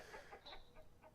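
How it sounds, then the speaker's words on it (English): Chickens clucking inside a crowded hen house in the video game Vintage Story: a few soft, separate clucks spread over about a second, quiet and somewhat distant. "there's way too many chickens in here"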